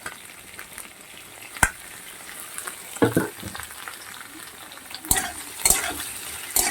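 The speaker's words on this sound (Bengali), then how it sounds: "এবার আলুর সঙ্গে পেঁয়াজটাকেও ভালো করে ভেজে নিতে হবে" Thinly sliced onions frying with potatoes in oil for a katla fish kalia, a soft continuous sizzle broken by sharp stirring clatters and scrapes at irregular intervals.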